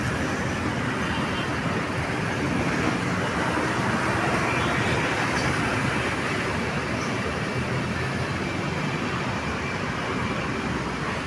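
A steady, broad rumble of a passing LRT light rail train near a bridge in Parañaque City, mixed with road traffic noise, continuous and fairly loud throughout.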